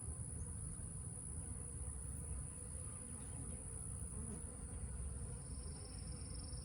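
A steady, dense buzzing of many insects fills the air continuously, with a constant high whine above it and no voices.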